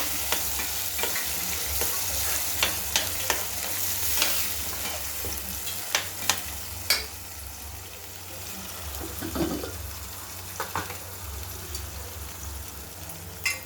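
Tomatoes paste sautés in a pan for prawn gravy, sizzling softly beneath repeated scraping and clinking stir strokes at irregular intervals, with a brief watery swish midway.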